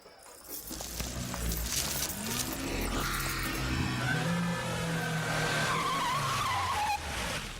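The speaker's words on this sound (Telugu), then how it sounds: "మెరుపు వేగంతో కారు వచ్చాగింది." A car races in at speed and skids to a halt, its engine roaring before the tires squeal loudly and close by, with no talking.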